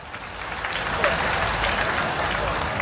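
A crowd at a political rally applauds steadily throughout, mid-distance and dense, with a voice speaking over the clapping.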